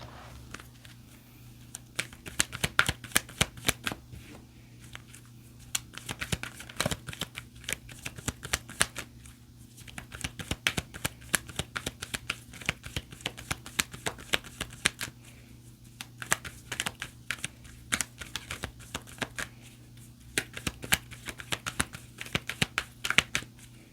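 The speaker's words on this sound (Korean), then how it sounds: "그리고 조언 카드 볼게요." Tarot cards shuffled by hand in a long steady run of rapid, close, crisp riffles and snaps, with short pauses between bursts and no talking.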